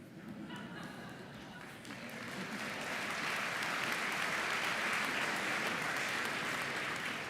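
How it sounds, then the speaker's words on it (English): A graduation audience in a large hall breaks into sustained applause that swells from scattered clapping to a dense, even roar. Murmuring and laughter are mixed in at the start. "Lots of laughter and applause"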